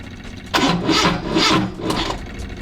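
Datsun Sunny Truck with its large exhaust muffler removed, its engine cranking and catching in a loud, rough burst of several pulses that settles into an uneven, throaty run close by.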